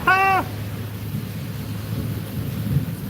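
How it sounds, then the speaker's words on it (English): Heavy rain pours steadily outdoors as a loud, continuous wash with a low rumble underneath, opening with a short high-pitched tonal sound before the downpour carries on alone. "It's pouring down rain where I'm at"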